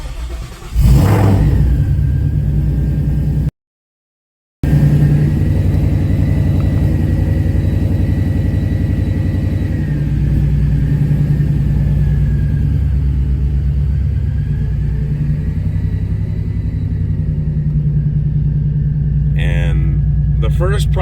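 A car's engine rumbles steadily at idle and low revs while being pulled out of a garage, loud and close, with a brief dropout and a slight rise in pitch as it moves.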